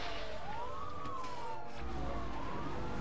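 A police car siren in the 2010 racing game Need for Speed: Hot Pursuit wails in slow rising and falling sweeps over a steady roar of engine and road noise.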